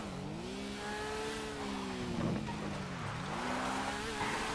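A motorbike is ridden in GTA 5 at a stunt park, its engine a steady revving whine that dips and rises in pitch as it throttles through turns, heard continuously over a noisy background.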